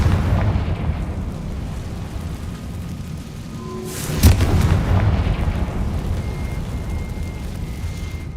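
A Confringo spell blasts in Hogwarts Legacy, a loud booming burst around the middle over a dense rumbling game backdrop that stays loud before and after.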